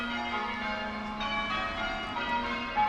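Church bells ring in the English countryside, a steady sustained chiming at a moderate distance with no talk over it.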